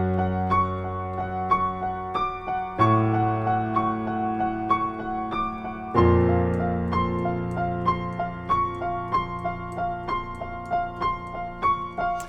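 Piano playing a theme, with low left-hand notes entering under a steady, repeating high right-hand pattern; clear, close and alone, the bass growing fuller partway through.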